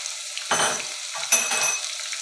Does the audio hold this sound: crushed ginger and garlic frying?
yes